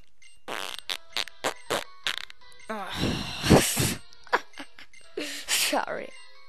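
A person imitates a fart with their mouth during a Pokemon White play session, giving a sputtering, buzzy raspberry that follows a string of short clicks and blips, close and moderately loud.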